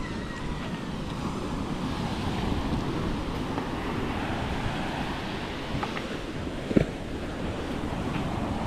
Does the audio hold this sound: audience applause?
no